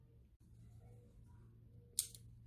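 A cigar cutter snips the cap off a Camacho Corojo cigar in one short, sharp clip near the end, heard close and crisp over a quiet low hum.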